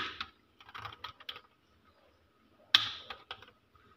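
Short bursts of quiet keystrokes on a computer keyboard while typing in Microsoft Word, separated by brief pauses, close and soft in an otherwise silent room.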